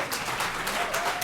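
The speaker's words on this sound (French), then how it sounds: "Applaudissements nourris." An audience at a business event applauds in a brief, dense burst of clapping that stays steady throughout.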